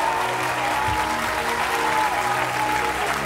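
A television studio audience claps for a contestant named Rodolphe during a reality show finale, with steady, full applause throughout.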